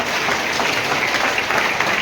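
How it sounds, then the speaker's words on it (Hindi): Enthusiastic audience applause welcoming guests at a senior citizens' honoring ceremony, a continuous, fairly loud crowd clapping that stays even throughout. "आज के कार्यक्रम का विधिवत शुभारंभ जोरदार तालियों से स्वागत कीजिए अतिथियों का अपने।"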